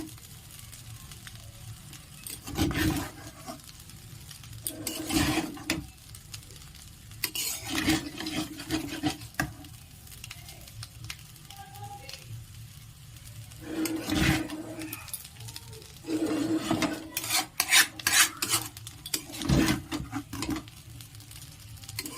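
Egg chowmein, street style, is tossed and fried in a pan, with repeated scraping stirs and clanks of the spatula against metal over a low continuous sizzle, coming in irregular bursts throughout.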